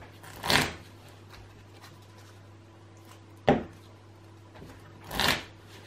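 A small hand of playing cards is riffled and reshuffled for a Lord of the Rings card game, giving two loud close shuffling bursts with a sharp tap on the table between them, with no talking over them.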